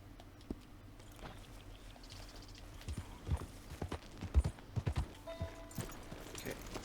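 Steady horse hoofbeats from Red Dead Redemption 2 clip-clop at a walking pace, getting louder and busier midway, over a quiet background with faint rumble.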